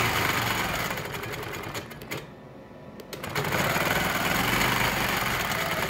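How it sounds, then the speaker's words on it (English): A sewing machine stitches quilting arcs across a quilt block, its steady rapid whirring running close and loud, pausing briefly midway before resuming. "So you see, we're finishing quilting the block."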